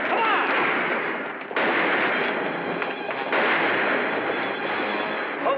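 Gunfire during a shootout at a house in a Western, dense overlapping shots and bursts filling the scene continuously, loud and close, with a brief break partway through.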